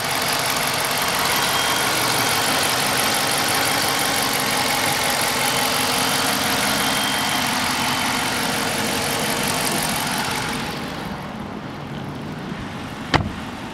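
A 2014 Dodge Charger PPV with the 5.7 HEMI V8 and AWD idles with a steady, smooth engine hum, then drops noticeably quieter near the end, followed by one sharp click.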